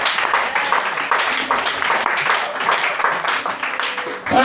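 A church congregation applauds during a lively worship service, dense continuous clapping filling the room at steady loudness for several seconds, with a brief louder burst at the end.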